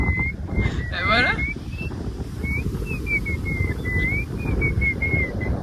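Someone whistles a wavering, sustained tune by drawing breath inward rather than blowing, the thin steady tone running for several seconds over heavy outdoor wind rumble and background noise.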